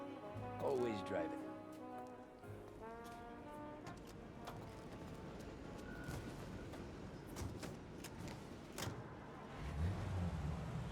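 A car in Mafia Definitive Edition hums along at low speed, its engine a steady drone with a horn-like tone early on, mostly beneath a conversation between driver and passenger.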